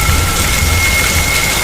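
Heavy rain pours down in a dense, constant roar, loud and close, with no voices.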